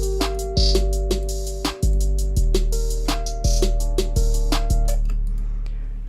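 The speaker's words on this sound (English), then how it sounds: "And now we can move on to some open hats." An FL Studio beat with open hi-hats placed one step before each clap, built from regular bright hat hits over sustained low tones, with steady percussive attacks roughly every half second and no talking.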